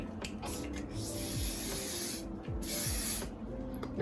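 Hairspray hisses from a can onto teased, backcombed hair styled into retro waves, a close, continuous spray broken by a couple of short pauses, with no voices.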